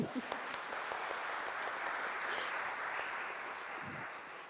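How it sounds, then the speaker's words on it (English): Steady crowd applause in an auditorium at a museum and university agreement signing ceremony, a dense wash of clapping that holds evenly and fades slightly toward the end, with a voice briefly heard. "Can we have a round of applause just for his Bengali?"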